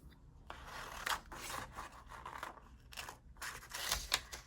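Scissors cutting out a sticker for a crafting label, heard as soft close snips and papery rubbing in uneven bursts, quiet and without talk.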